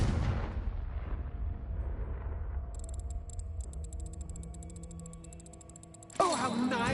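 The Confringo blasting curse goes off in Hogwarts Legacy as a sudden, loud burst near the end, after a low rumbling game ambience and a stretch of fast, quiet ticking.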